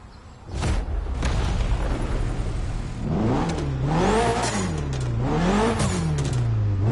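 A Mitsubishi Evo in The Crew Motorfest snarls to life, its engine revving hard and rising and falling in pitch through repeated throttle blips, loud and close with no talk.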